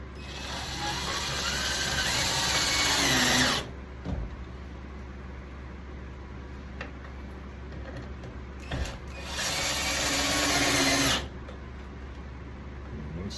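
A power driver sinks self-tapping screws to mount a track saw, two sustained loud whirring runs of several seconds each separated by a quieter pause with faint handling clicks.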